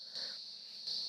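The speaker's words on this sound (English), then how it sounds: "I think it's the cicadas, actually. There are tons of them." Dense swarm of cicadas buzzing loudly outdoors, a steady high-pitched drone that swells in two bursts, with no voices.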